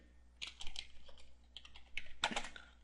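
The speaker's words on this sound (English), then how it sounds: "then you just type in your search here" A search is typed on a computer keyboard in short uneven bursts of crisp, close keystrokes, quiet overall and with no speech over it.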